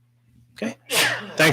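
A sneeze during a city council meeting, one short burst between spoken words from people nearby, with talk resuming right after in an indoor room.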